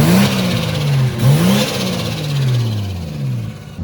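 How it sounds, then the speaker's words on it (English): A single-turbo 1JZ engine in a Lexus IS300 drift car revs repeatedly, pitch sweeping up and falling back in several surges, loud and close with a whirring edge. "But engine revs up good with this EMU."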